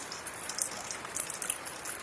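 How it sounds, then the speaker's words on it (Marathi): Heavy rain pouring off roof tiles beside a house, a faint, steady patter of drops splashing on a surface, with no voices over it. "आमच्या इथं घराजवळ पाऊस किती जोरात आला आहे जे म्हणजे काय कौलावरून पाणी पडत आहे"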